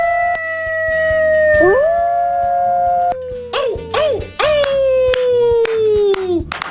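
A howl sound effect aired on a radio show: one long, wavering, sliding tone rises, falls, breaks into a few yelping dips and ends in a drawn-out descending wail. It is loud and close, with no talk over it.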